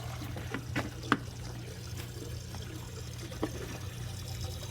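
Water draining out of a compact hydroponic flood and drain tomato system, a steady low trickling and gurgling flow with a few faint clicks, heard close and without talk.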